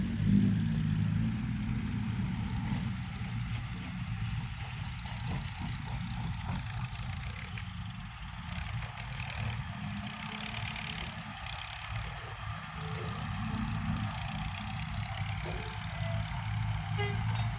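Ten-wheeler trucks idling at a large earthmoving work site, a continuous low engine rumble that holds steady throughout at moderate distance, with no speech.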